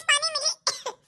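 A person coughs in two short harsh bursts, close and fairly loud, with a brief pause between them.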